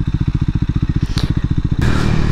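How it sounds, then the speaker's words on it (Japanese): A Triumph 400 single-cylinder motorcycle engine thumps in a fast, even, chugging rhythm up close on a winding road, then the sound smooths into a rushing roar as it revs. "短気筒スポーツバイクのいい音がしますよ。"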